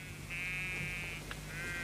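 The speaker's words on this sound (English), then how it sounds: "Chambellan is feeding the sheep contaminated thistles." Sheep being fed thistles in a farm experiment bleat in a long, wavering cry followed by a short second call, faint and somewhat distant over a low background hum.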